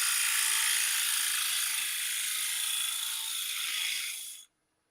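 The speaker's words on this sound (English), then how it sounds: "I'm going to take that little ridge out with a bowl gouge first" A bowl gouge cuts a small ridge on spinning wood on a woodturning lathe while a basket handle is being made. The cut gives a steady, loud, hissing scrape for about four and a half seconds and then stops abruptly.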